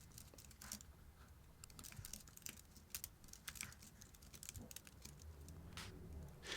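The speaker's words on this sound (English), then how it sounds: "I'm gonna type that real quick." Python code is typed on a computer keyboard in rapid, irregular bursts of close key clicks and taps, quiet and continuous without any talk.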